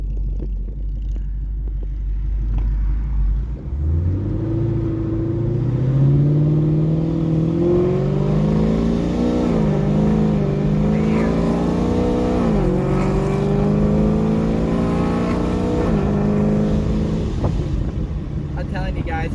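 A 1000HP ProCharged Camaro SS engine idles low, then revs and pulls hard with a rising, wavering supercharged roar that stays loud and close throughout.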